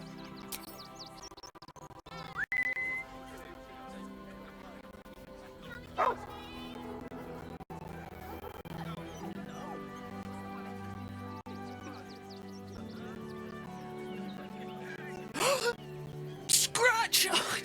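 A dog in the Baldur's Gate 3 video game yips, barks and whimpers in short bursts amid game music and character dialogue, with a few louder barks near the end.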